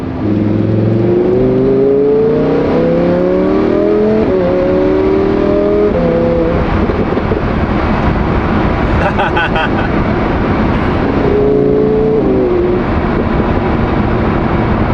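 A Lamborghini with a titanium exhaust revs repeatedly, its high-pitched exhaust tone climbing and falling in several surges, loud and close.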